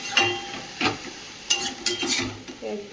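Saag greens fry in a pan, with soft sizzling under repeated scraping strokes of a spatula against the pan, several distinct close stirs spaced about half a second apart.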